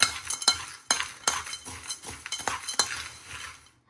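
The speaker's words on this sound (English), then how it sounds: "Stir all that up." A spoon clinks and scrapes repeatedly against a container while stirring a stoveless backpacking meal mix, close and fairly quiet, with irregular sharp taps between softer scraping.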